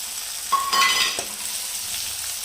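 Tomatoes hit hot oil with onion, garlic and ginger paste for paneer bhurji, bringing a short surge of sizzling and a bright utensil scrape before settling into a gentle, even fry.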